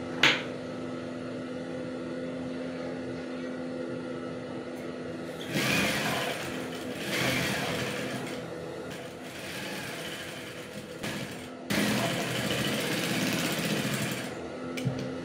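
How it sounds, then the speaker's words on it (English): A sewing machine stitches a female shirt collar, running in a steady mechanical whir with a few short bursts where the pace picks up, close and continuous with no talk. "while stitching this, also make sure that you do not stretch your fabric"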